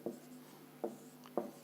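Handwriting of the word rhombus in a maths lesson, three short pen or chalk scratches at uneven intervals, close and soft above a faint steady hum.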